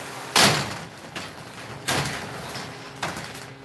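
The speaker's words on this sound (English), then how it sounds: "The door wants to roll up." A roll-up door in a forge workshop rattles and bangs three times in loud, rough bursts, each fading out before the next.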